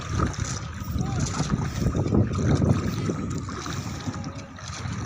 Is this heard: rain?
no